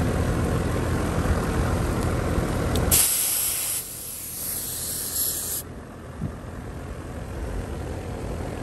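Refrigerant gas hissing while a leaking Lennox AC system is charged, a loud steady hiss that surges sharply for a few seconds, then settles back to a quieter continuous rush.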